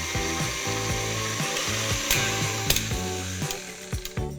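An electric mixer beating butter cookie dough with egg yolks for strawberry butter cookies, a close, loud motor whine with rhythmic pulsing thumps and clatter against the bowl, and no speech.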